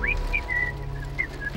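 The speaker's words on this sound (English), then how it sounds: "I love his whistling." A character in the Borderlands 2 video game whistles a short wandering tune, a series of clear sliding notes over a low steady game hum, with a soft thud at the end.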